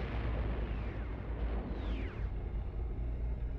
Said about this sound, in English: Oh, the explosions have scared the fish away.